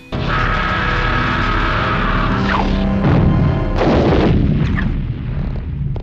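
A horror movie explosion erupts as a loud, dense roar of booming blasts and crashing debris that swells and churns for several seconds, with a second heavy burst near the end before it thins out.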